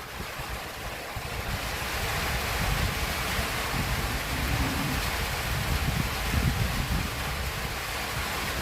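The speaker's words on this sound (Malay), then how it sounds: "Hujan bro, hujan." Steady rain falls outdoors in a field where cows stand, a dense, even hiss that swells slightly and continues throughout with no voices.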